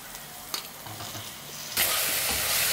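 Onion, curry leaves and a large tomato sauté in a pan for a chicken cashew gravy, a soft hiss with a few stirring scrapes that swells abruptly into a loud, bright sizzle midway.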